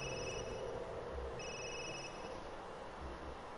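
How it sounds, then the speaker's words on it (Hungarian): A telephone rings in the horror video game Resident Evil Village, with two bursts of a thin electronic trill above a steady low background hum, fairly quiet and with no talk over it. "Most csörög a telefon."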